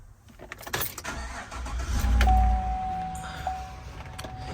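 A 2017 GMC Sierra 1500 pickup engine starts: a brief rattle of keys and the starter cranking, then the engine catches with a loud low surge and settles into a steady idle nearby.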